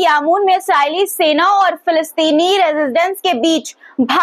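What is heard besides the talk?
No distinct noise like a dog, phone or traffic.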